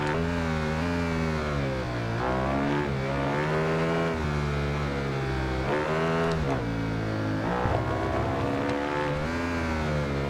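A six-cylinder Horex VR6 Black Edition motorcycle in the Ride 2 racing game revs up and shifts through gears, its engine note rising and dropping repeatedly, loud and continuous with no talk.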